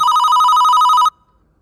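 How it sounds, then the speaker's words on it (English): A telephone rings once, a loud, steady electronic trill that lasts about a second and then cuts off abruptly, heard alone. "phone starts ringing"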